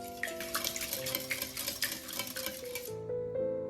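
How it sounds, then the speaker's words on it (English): Cake batter of beaten eggs, milk and oil is mixed in a bowl, giving quick close clinks and scrapes of a utensil against the bowl over soft background music, then a sudden stop. "Mix well."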